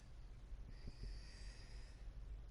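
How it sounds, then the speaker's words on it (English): A pet dog snoring nearby, soft snorting breaths with a couple of short nasal snorts and a faint whistling tone, quiet and close. "That's my dog snoring."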